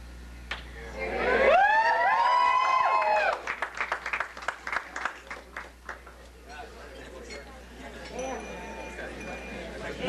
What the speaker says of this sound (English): Having a real big round of applause for our best man